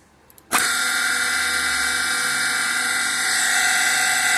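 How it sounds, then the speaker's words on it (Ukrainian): A used electric motor, around 2800 rpm and from a pumping station, with its top cover missing and a rotted flange, starts abruptly and then runs with a loud, steady, high whine. "Мотор працює, все з ним добре. Зараз запущу його."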